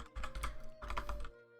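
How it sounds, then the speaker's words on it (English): Fast bursts of computer keyboard typing, close and clear, in two quick flurries of keystrokes with no voice over them. "And let's start typing."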